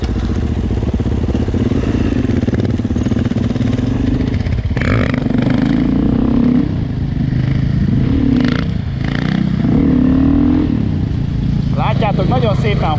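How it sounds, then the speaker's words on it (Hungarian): A dirt bike motorcycle revs during a wheelie. Its engine drones close and loud throughout, with rising and falling throttle surges, while a person talks over it. "ő fogja bemutatni, hogy hogyan szokott egykerekezni"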